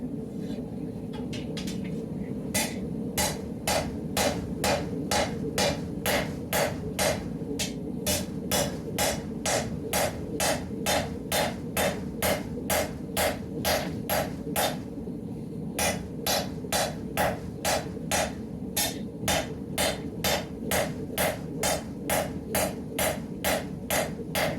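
Hot rebar hammered at a forge while shaping a first knife: a long run of steady, sharp metallic hammer blows, about two per second, ringing loudly over a low rumbling background with a brief pause midway.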